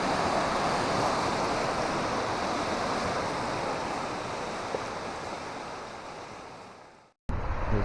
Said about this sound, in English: Look at these waves, wave train here.